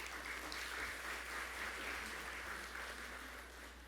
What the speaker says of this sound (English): I think he should be given a round of applause.